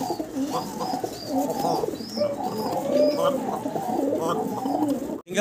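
Several pigeons coo close by in overlapping low, throaty calls that run throughout, mixed with occasional chirps.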